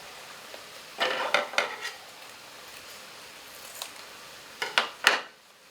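Squid stir-fries in a pan as stir-fry sauce goes in, with a faint sizzle under a few sharp clusters of utensil scrapes and pan clatter.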